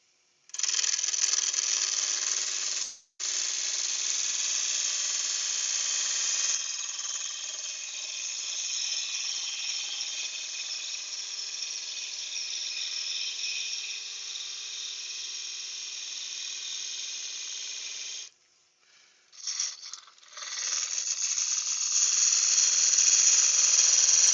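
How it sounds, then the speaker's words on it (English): Wood lathe spinning a banksia nut bud vase while a spindle gouge cuts, a loud steady high-pitched whir with a brief stop early on and a pause and restart near the end. "I'm just going to get a different spindle gouge just so I can get in and take that thinner."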